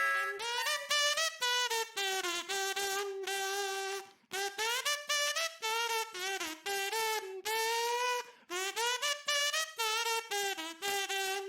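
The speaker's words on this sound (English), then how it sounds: "Kazoo. It looks like a funny little whistle." A buzzy kazoo hums a melody in short phrases, its nasal tone sliding between notes with brief pauses.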